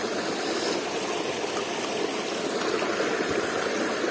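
River stream flowing at a fishing spot, a steady broadband rush and babble of water, continuous and fairly close throughout, with no voices.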